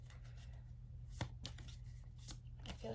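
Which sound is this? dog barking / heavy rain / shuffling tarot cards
shuffling tarot cards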